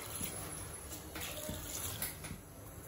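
Water is poured into a pot of overnight-soaked peas, a soft, faint trickle and splash with a few small clinks.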